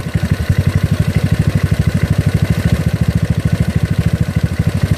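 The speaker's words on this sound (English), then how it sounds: "I hear the engine being cluck, cluck, cluck, cluck" A GY6 scooter engine idling rich through an OKO PWK 30mm carburetor, running close and loud with a steady, rapid lumpy chug that pulses evenly throughout, no voices over it.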